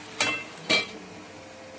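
A metal lid set onto a cooking pot of Bengali mituli and prawn curry, two quick clinking knocks close by, with a faint tap afterward.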